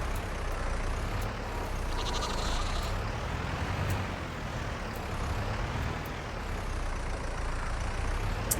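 Sheep bleats in a farming video game sound over a steady low engine-like drone, soft and repeated, with no one talking.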